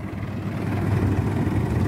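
A 30-year-old tractor hauling about 90 quintals of soil runs steadily at low revs, pulling through a deep pit. Its engine makes a constant rumble close by, with no voices.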